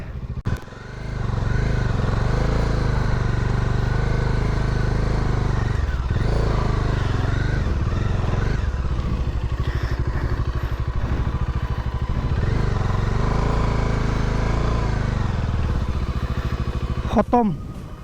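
A Bajaj Dominar 400 motorcycle engine runs continuously at a steady, rough drone, loud and close, while off-roading on a bad road in Guwahati, with brief clatter near the end.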